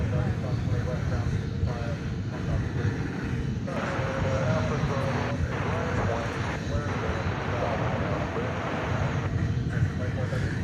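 A Kalitta Air jet roars steadily at DFW Airport, a constant broadband engine rumble through the whole stretch.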